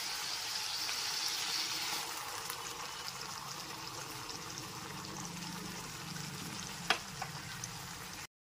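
Tomato and green chili paste frying in a pan over a medium flame, a steady close sizzle with soft stirring and a brief sharp clink near the end, no talking.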